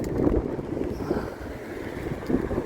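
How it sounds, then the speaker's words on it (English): Strong wind buffeting on an outdoor walk along a road, a continuous low roar with gusty swells and no voices. "Wind is really getting up there"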